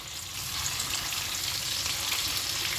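A spice paste of cumin, coriander, ginger and chilli sizzles steadily in a hot pan, a continuous close frying hiss with no voices.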